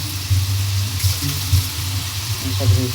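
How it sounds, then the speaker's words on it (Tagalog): Water runs from a kitchen faucet with a steady rushing splash. A low, uneven rumble sounds beneath it, and a faint voice can be heard in the background. "Ayan sa gripo."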